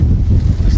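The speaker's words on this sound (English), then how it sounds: "We've got a bit of a gust of breeze" A gust of breeze buffets the microphone outdoors beside a farm spray rig in a stubble paddock, a loud low rumbling wind noise that fills the whole brief moment.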